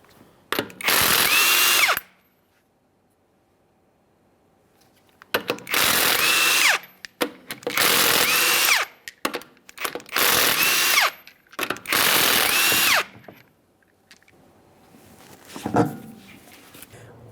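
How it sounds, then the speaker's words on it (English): An impact tool takes the five 22mm lug nuts off an Acura MDX rear wheel in loud, rapid rattling bursts of one to two seconds each, separated by quiet pauses, with a softer burst near the end. "We'll continue on to removing all 5 of our 22mm lug nuts and then the wheel."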